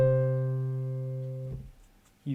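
Quick trill in a Handel gavotte, sped up so it settles just ahead of the bottom G: a sustained, resonant instrumental note, faint rapid ornament at its start, then a brief pause and a fresh note attack.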